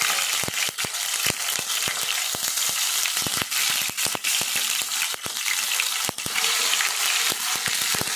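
Curry leaves and fenugreek seeds fry in a pan for a raw prawn and tomato curry, giving a loud, continuous close sizzle with frequent sharp crackles and pops throughout.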